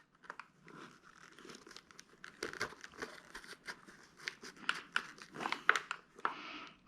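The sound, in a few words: Velcro being applied to hold an intercom in place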